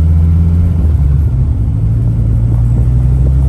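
A 2001 Dodge Viper RT10 Roadster with its V10 engine drives up a street, a loud, steady low-pitched engine rumble and exhaust drone dominating from start to finish, with no voices.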